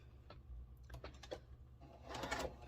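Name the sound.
sewing machine stitching quilt block fabric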